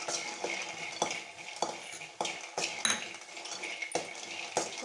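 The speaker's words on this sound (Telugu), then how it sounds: "దీంట్లో శనగకాయ పప్పులు వేసాను. కొంచెం రోస్ట్ అవ్వాలి." Chana dal roasting in a pan for a mint, coriander and tomato chutney, with steady scraping and stirring of a spoon against the pan over a soft continuous sizzle, close and fairly loud.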